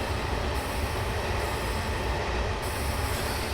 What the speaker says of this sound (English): That train's slowing down.